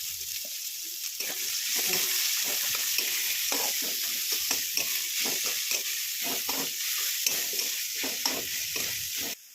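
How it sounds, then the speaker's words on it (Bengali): Onions frying in a pan for egg tarka, a steady loud sizzle with a spoon stirring through them in repeated close scraping strokes. "হ্যাঁ, এটা নাড়াও"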